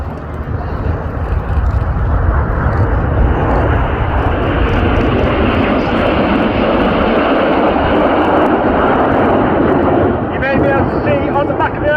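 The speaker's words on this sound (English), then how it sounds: "get your cameras ready for the colourful and noisy Big Vixen" A Big Vixen jet roars past at the RAF Cosford airshow, a loud, steady, broadband engine roar that holds for the whole stretch, with a commentator talking over it.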